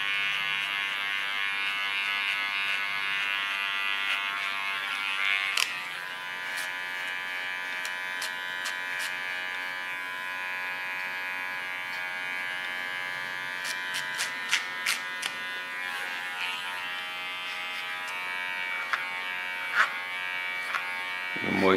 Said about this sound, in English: Again, with my smallest clipper, I clean the contour.